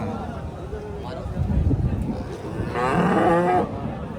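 A cow moos with a low, drawn-out call near the end, after a shorter lowing sound earlier, over outdoor wind and background noise at the Chintamani cattle market.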